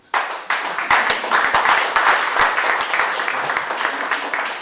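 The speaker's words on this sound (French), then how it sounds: "je voudrais qu'à partir de ce moment-là, on puisse les applaudir" An audience at a storytelling festival press conference in Dakar applauds the team, a dense, lively burst of many hands clapping that starts abruptly and holds steady, fairly close and loud.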